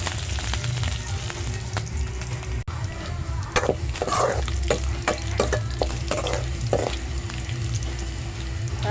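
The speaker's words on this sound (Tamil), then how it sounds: "கடுவெல்லாம் பொரிஞ்சிட்டு" Mustard seeds, curry leaves and small shallots sizzling in hot oil for a tamarind curry, a steady close frying hiss with scattered popping and crackles and occasional stirring clatter.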